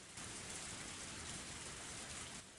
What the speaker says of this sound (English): The sound of falling raindrops was fierce